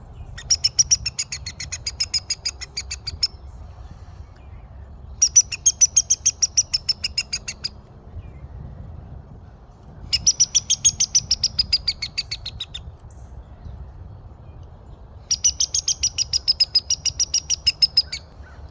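A squirrel whistle call imitates a rodent in distress. Four loud bursts of rapid, high squeaking pulses, each lasting a couple of seconds, are separated by short pauses.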